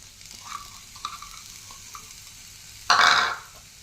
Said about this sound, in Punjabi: ਤੇਲ ਗਰਮ ਹੋਣ ਤੋਂ ਬਾਅਦ ਇਹ ਚ ਪਾ ਦੇਣੀ ਹੈ ਸ਼ਿਮਲਾ ਮਿਰਚ ਪਿਆਜ਼